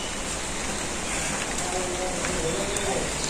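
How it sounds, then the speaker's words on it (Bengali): Light drizzle falling in a village setting, a steady soft hiss of rain pattering on surfaces throughout, with faint bird calls in the background. "গুড়ি গুড়ি বৃষ্টি শুরু হয়ে গেছে আবার"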